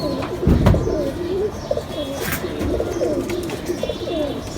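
Domestic pigeons kept in a breeder's loft coo repeatedly in soft, rolling phrases, with a louder cluster of coos near the start and steady cooing continuing close by throughout.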